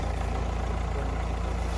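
A car engine idles steadily at close range, a continuous low rumble with a faint even pulse and no other sounds.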